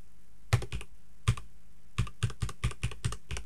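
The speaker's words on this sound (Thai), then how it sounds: "ลองพิมพ์นะ" A computer keyboard clicks close by, about a dozen sharp keystrokes in uneven bursts with short pauses between them, and no one speaks.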